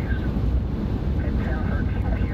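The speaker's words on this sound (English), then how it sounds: "It is windy." Strong wind roars steadily across the microphone during an Arizona monsoon storm, a dense low rumble with gusty buffeting that never lets up, with a voice speaking through it.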